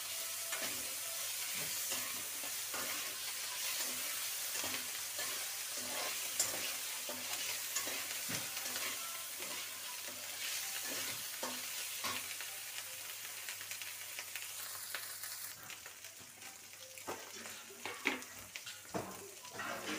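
Ginger and garlic stir-fried in a pan for chicken noodles: a steady, fairly quiet sizzle with repeated scraping and clinking of the utensil against the pan.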